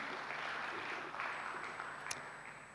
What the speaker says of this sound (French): Que vous pouvez applaudir pour Monsieur Rebaille,